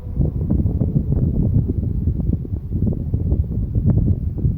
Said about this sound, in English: Is the wind getting worse as I'm saying it?